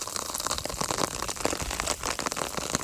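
Heavy rain pours during a Kalbaishakhi storm on a river. It makes a dense, steady hiss of drops hitting the surface, loud and close, with no letup and no voices.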